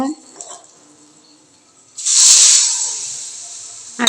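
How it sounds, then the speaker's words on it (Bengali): Water hits a hot pan of potato and pea curry, setting off a sudden loud sizzling hiss midway that slowly fades. A voice is briefly heard just before. "এখন আমি জল দিয়ে দিব"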